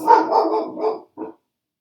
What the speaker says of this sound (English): Ignore my dogs barking because someone's probably walking past our house